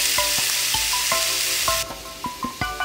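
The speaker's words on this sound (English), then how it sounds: "We're just gonna throw it right in this grill pan. You wanna have it nice and hot so you sear that fish." Mutton snapper searing in a hot grill pan, a loud close sizzle and hiss with repeated metallic clinks of a utensil; the hiss drops abruptly partway through while the clinking continues.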